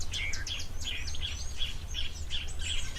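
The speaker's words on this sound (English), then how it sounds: "you can still hear lots of birds" Many birds chirp and call continuously at a waterhole over a steady low rumble, a busy chorus of short, bright tweets overlapping outdoors.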